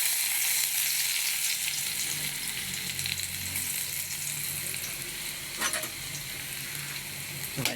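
Udon noodles sautéing with sardines in a hot pan, a steady broad sizzle and frying crackle throughout, with a few sharper stirring scrapes near the end and no talking.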